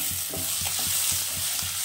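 Radish and shrimp fry in oil with sugar, a constant close sizzle cut by quick, regular stirring strokes that repeat throughout, with no voices.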